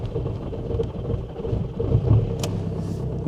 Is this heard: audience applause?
no